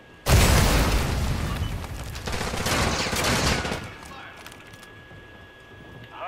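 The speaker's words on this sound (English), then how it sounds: "Grenade, watch out!" A grenade blast and gunfire in Call of Duty: a loud sudden boom followed by a sustained roar of shooting and debris that fades after a few seconds, with a shouted voice over it.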